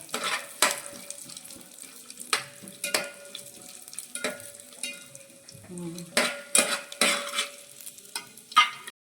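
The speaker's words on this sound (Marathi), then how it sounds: "ड्रायफ्रूट झाले तुपात तळून" Dry fruits fry in ghee in a pan while being stirred, a light sizzle broken by repeated sharp clinks and scrapes of a utensil against the pan at an uneven pace, close and clear.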